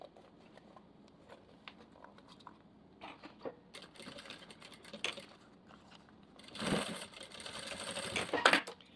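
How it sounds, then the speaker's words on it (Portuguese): Sewing machine running in short bursts as it stitches a zipper seam on a half-moon zippered pouch, the motor whirring close and intermittently, with a louder, faster run near the end. "E passa uma costurinha, um pé de máquina aqui"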